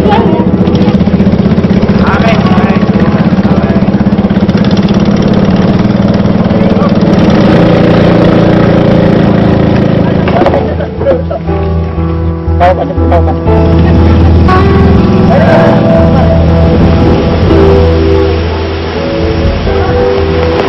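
A motor boat engine runs steadily as a family rides a river boat to a distant cemetery, a low continuous drone throughout with people talking over it.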